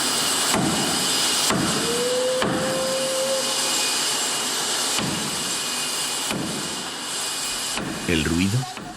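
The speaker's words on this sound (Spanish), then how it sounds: "El ruido, en esta isla en la que impera el silencio, puede atraer la curiosidad del viajero hasta un pequeño astillero." Mechanical noise from a small boatyard on a quiet island in the Seychelles: a steady, loud broadband drone with periodic thumps and a brief whine, and a voice near the end.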